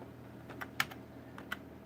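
Quiet keystrokes on a Microsoft Natural keyboard at a Pentium 4 computer, a few scattered taps at uneven intervals, faint and fairly close with no talking.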